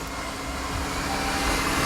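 A yeedi 3-in-1 self-emptying robot mop vacuum runs in standard suction mode, giving a steady, fairly quiet broadband whir and hum that holds even throughout, with no voices.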